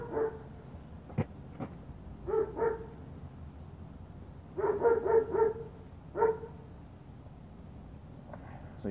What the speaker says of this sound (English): Pardon the neighbor's dog.